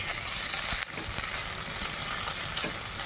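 Sabudana mixture fries in oil in a pan over medium heat, giving a steady, close hiss and sizzle with occasional stirring scrapes and no talking.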